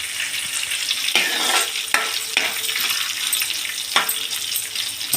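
Loud sizzling and crackling of curry leaves in hot tempering oil, with a few sharp clinks of a utensil stirring the pan; no voices.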